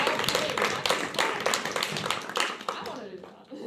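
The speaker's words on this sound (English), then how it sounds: "Can we get an applause for Jim?" An audience applauds at a climate talk, a burst of many hands clapping close by that gradually tapers off, with voices talking over it.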